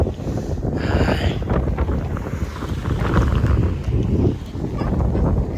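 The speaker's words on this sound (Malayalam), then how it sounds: "ഇവിടെ നല്ല കാറ്റ് കേട്ടോ കാറ്റാണ്" Strong wind roars and buffets the microphone throughout, a continuous loud rushing with gusts swelling and easing, in Tamil Nadu.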